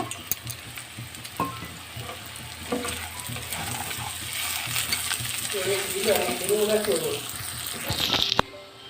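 Nuts tip into a pot of Bengali-style fried khichuri where rice sizzles in hot oil, with scattered small clatters over a steady frying hiss, fairly close and loud.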